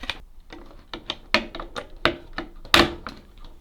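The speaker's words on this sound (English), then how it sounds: "So just line it up like so and clip it into place" A plastic base stand is lined up and clipped onto a Govee smart heater, producing a string of sharp plastic clicks and knocks, with one louder snap near the end.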